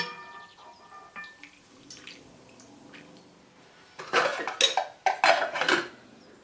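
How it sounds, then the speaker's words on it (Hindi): Hot oil poured over crushed red chili and salt in a small bowl as a topping for haleem; a few quiet clinks give way to a sudden loud burst of crackling sizzle that sputters in short surges. "इसमें हम डाल देंगे गरम गरम तेल"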